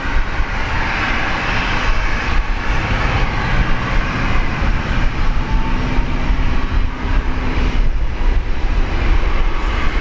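A Philippine Airlines airliner takes off from runway 19 left at Brisbane Airport with a loud, steady jet roar that holds throughout at close range.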